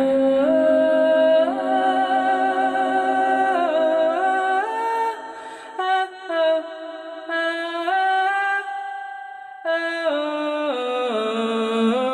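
Sustained guitar notes washed in echo and reverb from an Electro-Harmonix Cathedral stereo reverb pedal, with repeating tails that step and overlap for several seconds, loud and continuous with no talking.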